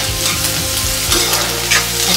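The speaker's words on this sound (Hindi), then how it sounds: "मीडियम फ्लेम पे फ्राई करना है गोभी को" Cauliflower florets frying in hot oil in a pan over a medium flame for home-style aloo gobhi, a steady loud sizzle with stirring clatter, no voices.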